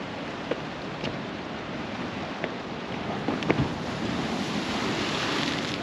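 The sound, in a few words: ocean waves hitting rocks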